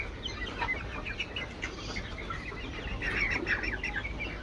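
Young white and red layer hens on a poultry farm, clucking and chattering in a busy overlapping flock, fairly close and moderately loud, with no talking.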